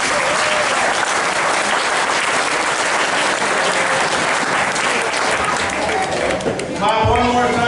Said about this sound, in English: Clap one more time for the couple.